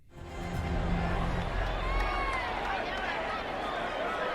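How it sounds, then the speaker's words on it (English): Continuous crowd noise from the video game Horizon Zero Dawn: a dense, even murmur of many voices with faint cheering, holding steady throughout. "But the crowd noise inexplicably continues."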